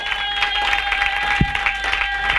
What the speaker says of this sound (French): Est-ce qu'on peut acclamer très fortement les Seigneurs?